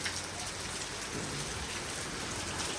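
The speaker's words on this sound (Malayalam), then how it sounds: "നല്ല മഴയാണ്" Heavy rain pouring outside a home in the morning, a dense continuous hiss of drops on surfaces, steady and fairly loud throughout, with no talk.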